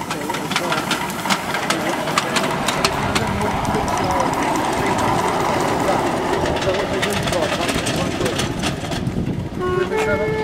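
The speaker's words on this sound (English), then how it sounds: "there's a train on there" A rumbling train engine idles and chugs steadily nearby, with faint voices and clanks over the continuous mechanical drone.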